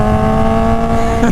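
A Kawasaki Ninja H2R motorcycle accelerates hard in first gear, its loud, close engine note holding a steady high drone that climbs in pitch right at the end.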